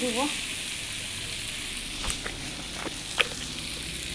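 About a spoonful of ground cumin sizzles in a small amount of frying oil, producing a continuous close hiss broken by a few light clicks of stirring.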